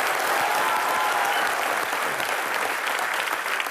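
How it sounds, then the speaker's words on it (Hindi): Studio audience applause on a comedy talk show, loud sustained clapping from a large crowd filling the whole stretch, even and continuous without speech. "जोरदार तालियां एक बार मैरी कॉम के लिए।"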